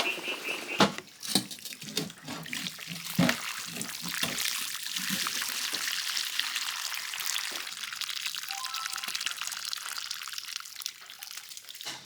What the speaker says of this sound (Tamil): மழை இன்னமும் விடலை, பெஞ்சிகிட்டே தான் இருக்குது.